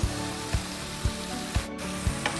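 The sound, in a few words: ivy gourd (dondakaya) frying in a pan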